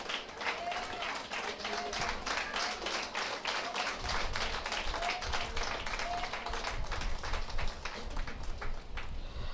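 A church conference audience breaks into loud, sustained clapping that fills the hall with dense, even applause for several seconds.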